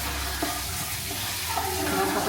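Maggi charmuri fries in a pan with a steady, close sizzle and light stirring scrapes throughout, with faint background voices.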